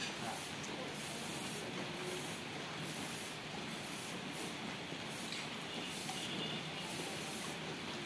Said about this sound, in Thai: เสาเหล็กคาร์บอไนยังพ่นสีอยู่นะ